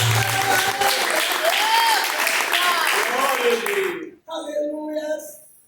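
Joyful clapping from a church congregation during an evening worship service, dense and sustained for about four seconds, then breaking off briefly before a shorter, thinner burst resumes over singing or voices.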